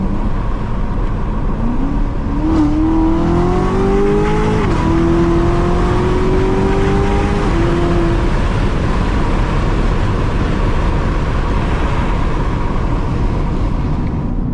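A 700 horsepower Corvette pulls hard in second gear, its engine note rising steadily as it climbs through the revs, loud and close under constant road and wind roar.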